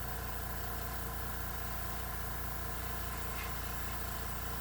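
A small air compressor for an airbrush runs with a steady, low mechanical hum and faint buzzing drone, even and continuous with no pauses.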